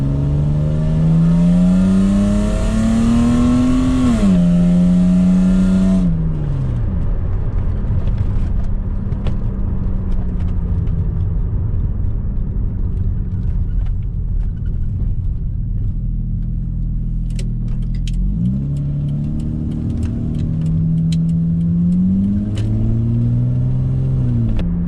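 A cheap Volvo 960 on a road test revs and accelerates, its engine note climbing and dropping through gear changes, then settling into a steady cruising rumble before pulling hard again; loud and close from inside the car.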